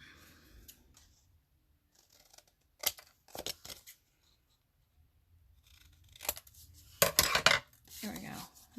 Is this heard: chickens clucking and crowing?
no